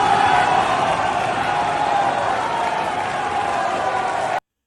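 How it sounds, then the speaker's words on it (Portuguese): Deputies in the Colombian Assembly raise a dense, continuous crowd roar of booing and shouting, loud and unbroken until it cuts off abruptly. "Porque eles estão sendo vaiados pelos outros deputados."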